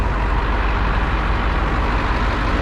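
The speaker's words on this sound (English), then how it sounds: "Got this GMC tank truck running." A GMC tank truck used as a water truck for construction sites idles steadily at an outdoor equipment auction, a continuous close rumble with no pauses.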